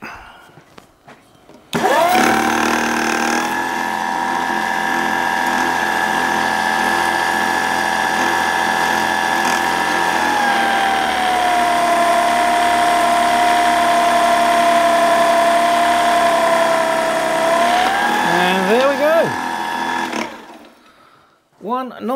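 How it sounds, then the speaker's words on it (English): A drill bores a hole through a scrap brass test piece with a steady, loud whining hum that spins up sharply, holds its pitch for many seconds with a slight dip partway, and then winds down. "So let's drill a hole."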